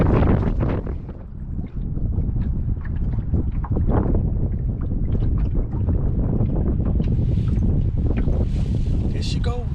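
Strong wind batters the microphone on a lake while someone fishes for crappie from a boat, producing loud, gusty, uneven rumbling with scattered knocks and splashes throughout.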